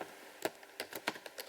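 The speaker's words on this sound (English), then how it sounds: "I'm not very good at talking and typing at the same time" Computer keyboard typing while setting up screens in Kivy code: a few sharp key clicks in quick irregular bursts, close and fairly quiet, with no talking.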